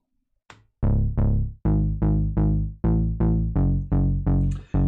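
A deep synthesized bass plays a rhythmic line of about ten plucky notes, each decaying quickly, loud and upfront with nothing else playing.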